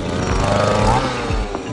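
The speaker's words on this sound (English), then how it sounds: "We're drilling these little rock cores, taking them out" Portable drill boring small rock cores out of granite during geological sampling: a loud, steady, rough engine drone that holds at close range, with no talk.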